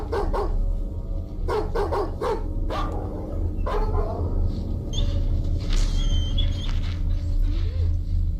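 A dog barks in short repeated bursts, a quick cluster near the start and a few more spaced yaps later, heard fairly close over a steady low hum in a dramatic indoor scene.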